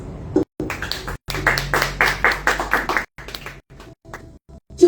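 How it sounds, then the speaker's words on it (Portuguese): Church congregation applauding, a dense run of clapping that swells for about two seconds and then thins out into scattered claps, heard close and with no talk over it. "Aplausos."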